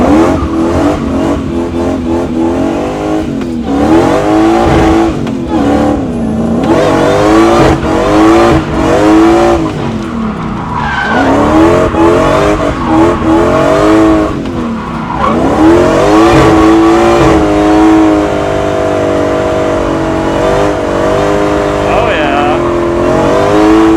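A supercharged V8 drift truck drifting around a large road course, its engine roaring loudly and continuously with rising and falling revs and tire squeal, close and dominant throughout.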